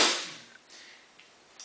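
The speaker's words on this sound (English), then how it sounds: "All of a sudden, a gunshot is heard" A single sharp gunshot sound effect in an audio drama cracks out at the start, loud and close, then decays quickly into a faint tail of small echoes.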